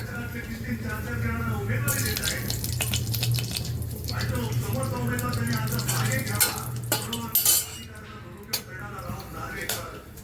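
Whole spices such as bay leaf, black pepper, cloves and cinnamon hit hot oil for a masala rice dish, giving a steady sizzle with a utensil scraping and clinking in the pan while someone talks over it.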